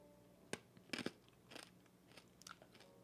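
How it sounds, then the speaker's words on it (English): A cough drop being crunched and chewed close to the mouth, a few sharp quiet crunches spaced irregularly over a few seconds, with no talk. "I'm munching on a cough drop right now."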